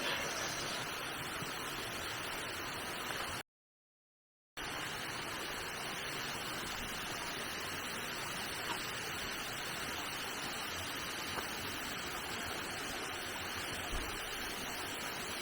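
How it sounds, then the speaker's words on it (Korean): Steady broadband rush of water falling at a mountain waterfall in Gangneung, South Korea, constant and fairly close, with no voices; a short gap of silence interrupts it early on. "폭포 물 떨어지는 소리"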